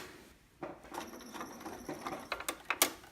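A sewing machine runs a zigzag stitch back and forth through thick fabric in uneven bursts of rapid mechanical patter, speeding up and growing louder toward the end, with no talking.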